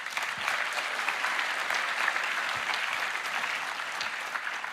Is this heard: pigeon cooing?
no